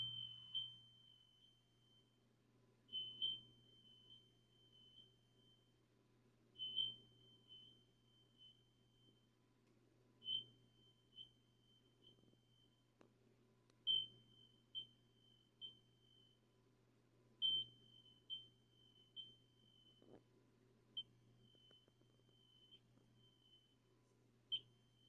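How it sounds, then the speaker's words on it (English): Smoke detector in a baseball stadium chirping faintly at irregular intervals, a dozen or so short high beeps over a low steady hum, with no talking. "So, yes, smoke detector going off, as you can hear it right now."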